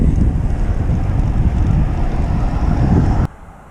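Heavy wind roars across the microphone during a bike ride on Bow Valley Parkway, a loud, steady, low rumble that cuts off abruptly near the end.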